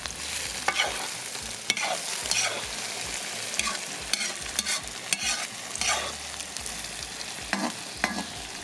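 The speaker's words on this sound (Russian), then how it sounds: "Обжариваем все вместе еще минут 10" Zucchini caviar vegetables fry in a pan under steady sizzling, with repeated scraping and clacking stirring strokes from a spoon against the pan, close and continuous throughout.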